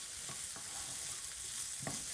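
Steady frying sizzle from fish in a pan, with a few soft stirring scrapes and clinks breaking through the constant hiss.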